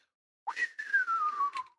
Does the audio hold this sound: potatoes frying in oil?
no